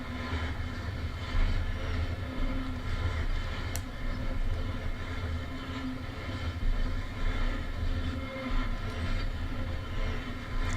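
Train running in the Run8 train simulator game, a steady rumbling rail-car roll with continuous low mechanical drone and occasional faint clicks, heard alone and fairly close throughout.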